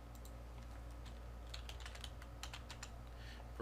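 Soft, quiet clicks of a computer keyboard as someone types a short command, a quick burst of irregular keystrokes over a low steady hum, with no talk.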